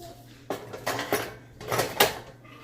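A crispy Tyson chicken tender is handled on a plate, giving a few close, crunchy crackles and light scrapes against the dish in short bursts.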